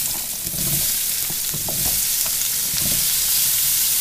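Turnips frying in bacon fat in a pan, a close, steady crackling sizzle with a few soft stirring and shifting sounds, no talking.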